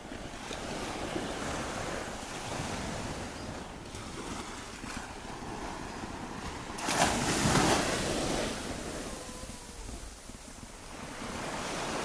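Sea waves wash onto Dover beach under gusting wind, a steady surf roar with microphone buffeting and a louder surge partway through, no voices.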